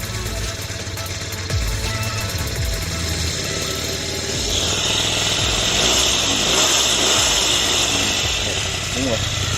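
A scooter engine runs steadily, its throttle blipped to keep it from stalling, with a rising rev toward the middle and a buzzy, ragged tone under intermittent talk.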